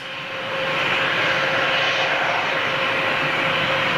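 A Boeing 757 jet at Manchester gives a loud, steady engine roar that swells in the first half-second and then holds a constant whine-laced rumble throughout, with no voices.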